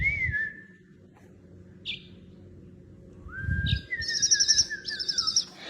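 A pet bird gives clear whistled chirps and tweets close by, a short call first, then brief notes after a pause and a louder run of warbling phrases near the end, with faint room noise underneath.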